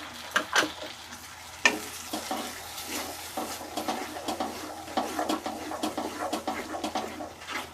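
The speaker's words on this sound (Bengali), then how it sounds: "এবার আমি এই পোস্ত আর কাজুটা আমি এর মধ্যে দিয়ে দিলাম, দিয়ে একটু কষে নেব" Poppy seeds and cashews sauté with fried onion in an oiled pan, giving a steady sizzle broken by repeated scraping and stirring strokes of a spatula, close and fairly loud.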